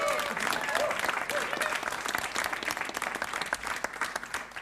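An audience at a live traditional Irish music session applauds a band, dense sustained clapping with a few cheers, close and fairly loud throughout.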